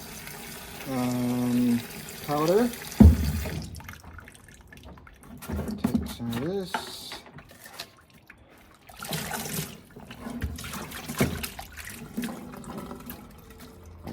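Hot water splashes and trickles in bursts into the tank of a Pacvac Glide 300 vacuum, mixed with Vanish powder, with pauses between pours and someone talking at the start.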